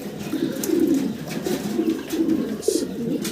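Caged pigeons at a pigeon farm coo in low, repeated rolling phrases, close and fairly loud, with faint rustling and no speech.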